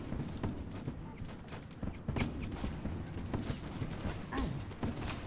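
In Mount & Blade Warband mod combat, musket volleys crack out repeatedly over a dense battle din, with scattered distant and near shots and clattering through the mix.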